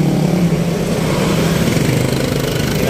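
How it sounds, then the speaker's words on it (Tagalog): Motorcycle engines droning steadily on a city road in the Philippines, a continuous loud mid-pitched rumble of passing traffic with no talk. "puro motor na lang yung dumadaan"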